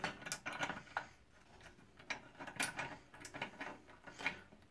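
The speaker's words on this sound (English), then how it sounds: "Now we'll first just take our vise and open it up here." A cheap Harbor Freight bench vise is opened, giving faint, close, irregular mechanical ticks and small clicks scattered over a few seconds in a quiet room.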